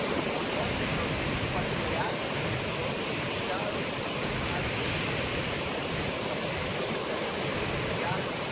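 A strong flow of water gushes from a spring, a loud, steady, dense rush that fills the whole stretch without pause.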